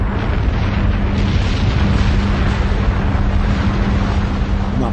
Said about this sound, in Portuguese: Uma bomba de hidrogênio